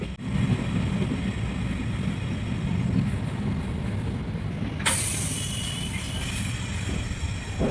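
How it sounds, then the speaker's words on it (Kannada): A train pulls into Tumakuru station with a steady low rumble of wheels and carriages, and a sharp hiss of air brakes bursts in midway, with no voices. "ಇನ್ನೇನು ಕೆಲವೇ ಕ್ಷಣಗಳಲ್ಲಿ ನಮ್ಮ ಟ್ರೈನ್ ರೀಚ್ ಆಗ್ತೈತಿ"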